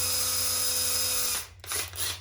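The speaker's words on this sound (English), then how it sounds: "I will drill this out." A power drill whines steadily while boring a hole in wood to fit a pair of 2 3/4 inch wood screws, then cuts off abruptly, followed by a couple of short rustling handling noises.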